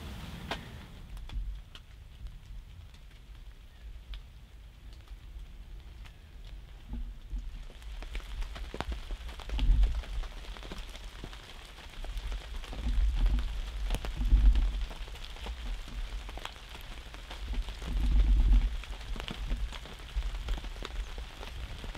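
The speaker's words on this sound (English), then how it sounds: "Gonna stay out of the rain." Steady rain patters on a surface nearby, a soft continuous hiss with occasional louder drips and thumps, no voices, heard from a hunting blind during an Illinois bow hunt.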